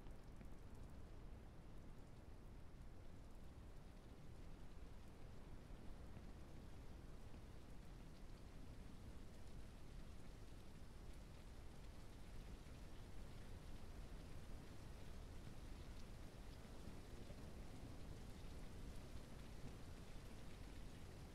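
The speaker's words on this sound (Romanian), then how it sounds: "Și cred că o să vină iară ploaia." Steady rain falls with rumbling thunder in the farm video game Ranch Simulator, a dense, even wash of downpour that holds at a constant level throughout, with no voices.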